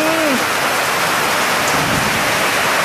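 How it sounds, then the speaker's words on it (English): Heavy, steady rain pours down in Jamaica during a thunderstorm, a dense close hiss that fills the scene with a low thunder rumble beneath it, loud and unbroken, with no talking. "Rain, yeah man."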